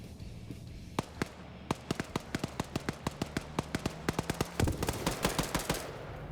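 Automatic grenade machine gun fire in a military PvP game battle between USA and USSR teams: a long, steady string of sharp bursts, roughly thirty in a fairly even rhythm, crowding closer together toward the end.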